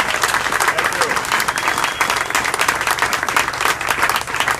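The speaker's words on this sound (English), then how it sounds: "one round of applause for Bob at Schooners" A crowd at a campaign event in Bloomington applauds steadily, a dense, continuous wash of many hands clapping close by for several seconds with no pauses.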